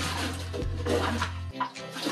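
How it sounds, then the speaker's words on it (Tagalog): Water is bailed from a hand-dug well that is nearly 20 feet deep. Steady sloshing and splashing runs throughout, with a low rumble that cuts off near the end and a brief splash after it. "Limas na naman kasi marami na yung tubig."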